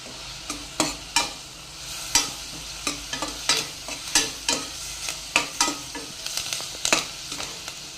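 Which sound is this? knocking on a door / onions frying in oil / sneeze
onions frying in oil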